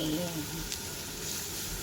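Butter or oil sizzling in a pan with diced onion, a steady, moderately loud frying hiss throughout.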